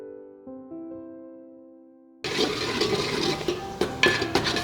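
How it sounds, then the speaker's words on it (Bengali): A little water pours into a pan of handi masala dal. Soft musical tones come first, then a sudden, loud gushing splash starts midway and continues to the end. "এবার আমি এটা সামান্য জল দেব।"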